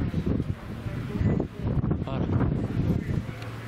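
Strong wind blows outdoors on a cool late-August evening after a heatwave, giving a continuous low roar with gusty rumbling buffets against the microphone. Talk is faintly mixed in.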